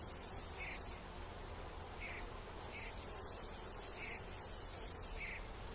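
Insects buzz faintly against a steady hum of background noise, with several short drones coming and going, fitting robber flies in flight.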